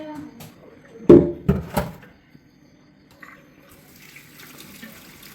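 Tap water runs into a vessel in a household kitchen. A few sharp clunks of the vessel come first, then a soft, steady stream of water continues in the background.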